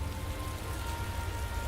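Rain falling on race day in the motorsport management game Motorsport Manager, a steady, even hiss of rainfall with a low rumble beneath, continuous and unbroken.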